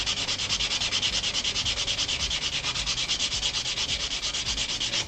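Sandpaper rubs back and forth in a fast, even rhythm against a paper craft piece, removing the excess paper at the edge; steady, close and dry, with no talking.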